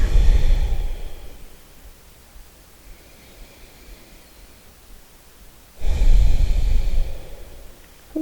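Deep belly breathing during a yoga core exercise: two long, close, airy exhales separated by a quiet stretch, soft and unaccompanied by talk.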